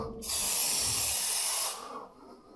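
A wide-fan sprayer lays lubricant across a noisy garage door in one steady, loud hiss of about a second and a half, close to the mic, then cuts off. Faint rattling follows.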